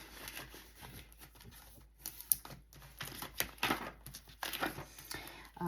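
Paper cash bills handled and stuffed into an envelope, with close, quiet crinkling, rustling and soft tapping in irregular bursts.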